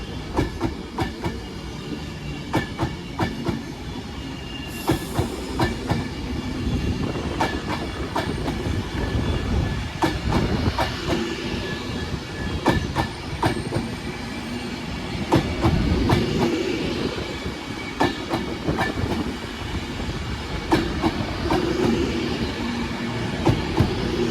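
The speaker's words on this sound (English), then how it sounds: "past the Foods and Avanti West Coast on Divert from Manchester Piccadilly to London Euston" An Avanti West Coast passenger train diverted from Manchester Piccadilly to London Euston passes along the Walsall line, a steady loud rumble with rhythmic clickety-clack of wheels over rail joints throughout, no voices.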